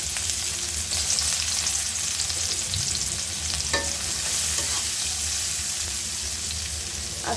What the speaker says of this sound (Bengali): এখন আমি পেঁয়াজ কুচি দিয়ে দিলাম